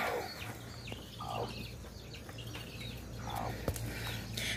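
Soft, repeated clucking from a mother hen with newly hatched chicks, a few short calls spread over a steady low background hum, fairly close and quiet.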